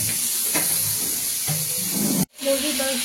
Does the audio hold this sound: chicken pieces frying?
yes